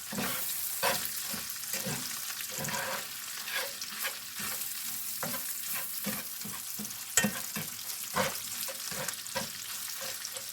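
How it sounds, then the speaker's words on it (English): A pound of sausage frying in a pan, a steady close sizzle with repeated scraping stirs from a utensil throughout, no voices. "That was a pound of sausage that I added in this pan."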